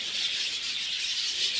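Pet birds chirping during a morning soft-food feeding: a dense, steady bed of high, overlapping tweets and chirps from several birds close by, continuous throughout with no talk.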